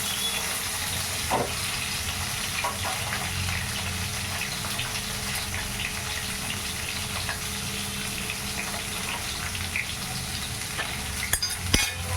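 Pointed gourd curry frying in a pan while being stirred: a steady, even sizzle runs throughout, with faint scraping and a few small clicks near the end.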